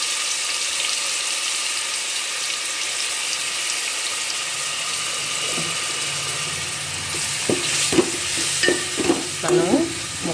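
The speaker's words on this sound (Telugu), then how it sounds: "ఇలా ఫ్రై చేసేసుకోవాలి." Onion paste frying in oil in a pan gives a soft, steady sizzle. Later a spoon stirs it, adding a run of close scraping clatters and taps against the pan over the hiss.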